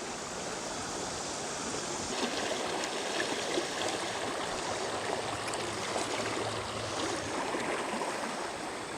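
Water of the Stones River flowing steadily over a concrete road slab, a continuous broadband rush like a stream or small waterfall, close and even throughout with no voices.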